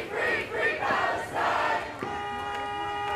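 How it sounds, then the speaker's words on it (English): A large crowd of pro-Palestine protesters marching along a city roadway in St. Louis chants in unison, loud rhythmic massed voices swelling in waves, then giving way to a more sustained held tone. "They held a variety of signs and chanted Free Palestine every step of the way."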